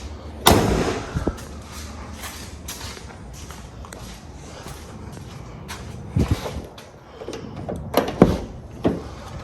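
A 2020 Chevrolet Camaro ZL1 1LE door is opened: a sharp latch click and thump up close, a few softer handling noises, then more clunks and knocks toward the end against a quiet background.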